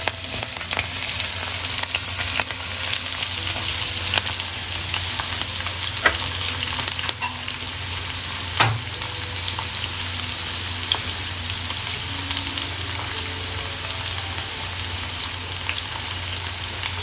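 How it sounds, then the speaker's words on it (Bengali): Beans and carrot fry lightly in oil in a pan for vegetarian fried rice, giving a continuous dense crackling sizzle close up, with scattered clicks and one sharper knock from stirring, no voices. "এটা আমি একটু ভেজে নেব। হালকা ভেজে নেব।"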